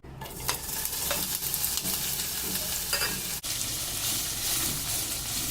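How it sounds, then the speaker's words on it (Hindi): Paneer frying in a pan with oil for shahi matar paneer, a steady close sizzle with stirring scrapes and a brief interruption midway, no talk. "सबसे पहले पनीर को फ्राई कर लेते हैं।"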